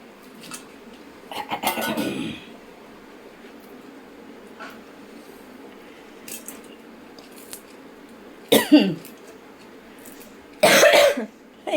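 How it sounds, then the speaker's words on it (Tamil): Several separate bursts of coughing from people near chili frying in a kitchen, some a quick cluster of harsh coughs, spaced apart by quiet stretches with faint background sound. "எல்லாருக்கும் இருமல் வந்துடுச்சு."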